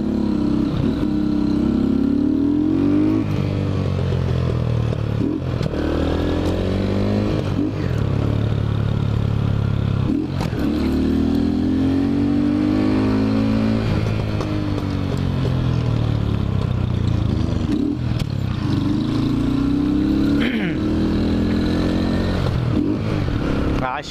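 A motorcycle engine revs and drones continuously up close while riding through mud, rising and falling in pitch as it works its way along, with occasional clattering.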